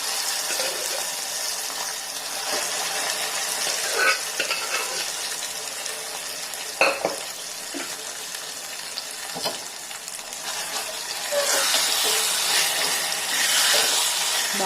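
Brinjal chutney fries in an oil tempering with turmeric, a soft continuous sizzle broken by occasional spoon scrapes and clinks, growing a little louder and hissier near the end, with no one talking.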